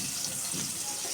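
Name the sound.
onion and whole spices frying in oil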